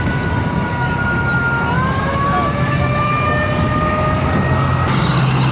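A fire engine siren wails with slowly gliding tones over loud, steady city traffic rumble, heard from a motorcycle, sounding fairly close and continuous throughout.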